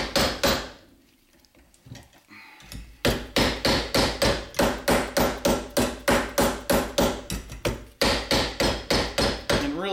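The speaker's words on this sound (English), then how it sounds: "go through one more time with the mallet and the hammer handle" Steady mallet and hammer blows on sheet metal, forming a rear rib, land in a regular rhythm, about two per second, loud and close, after a brief quieter pause near the start.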